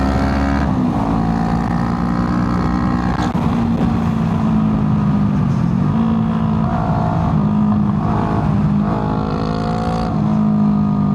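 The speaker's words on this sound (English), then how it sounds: "the exhaust has got warmed up now" A Honda Rebel 500 motorcycle engine idles and revs steadily up close, its warmed-up exhaust droning loudly with a deep, throaty rumble throughout.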